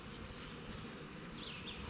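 Bees buzzing around a honey box, a soft continuous droning hum of many insects, fairly quiet and steady, heard alone without speech.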